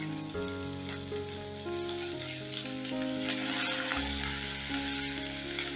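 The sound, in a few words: stirring chopped onions frying in a pan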